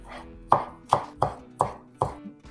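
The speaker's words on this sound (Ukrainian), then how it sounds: "Візьму трішки зеленої цибулі і наріжу її дрібненько." A knife chops green onion finely on a board in five crisp, evenly spaced strikes, close and distinct against a quiet background.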